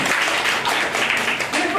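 Short burst of close, loud audience applause at a public talk on Taiwanese Pingpu Indigenous culture in Taichung, a dense continuous patter that fills the whole moment.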